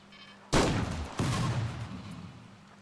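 Gunfire from raiders in the colony game Rimworld: two sharp, loud volleys about half a second apart, each trailing into a rumbling decay, with no talk.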